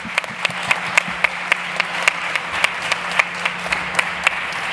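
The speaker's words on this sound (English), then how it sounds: "So I ask you a big applause for all of them" Steady applause from a conference audience at the South Summit stage, many hands clapping together in a dense, even wash, with a faint hum underneath and no talking.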